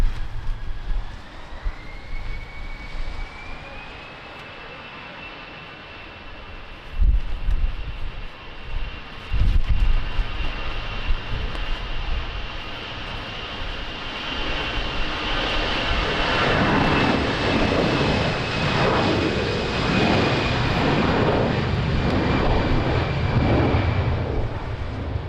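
A Shamrock jet airliner spools up and roars down runway 20 at Lisbon Airport in strong wind, its engine noise building steadily into a dense, heavy rumble with gusts buffeting the microphone.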